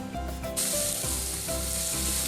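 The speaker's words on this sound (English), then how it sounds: "The onion and the jalapeno are already sauteing" Onion and jalapeno sautéing in a hot pan for a tofu stir-fry, a loud, continuous close sizzle with a light scrape of stirring.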